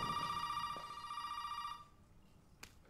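Telephone ringing in the Resident Evil 7 VR video game, a faint electronic ring with bright tonal pulses lasting under two seconds, followed by near silence and a soft click.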